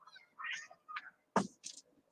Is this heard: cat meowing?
yes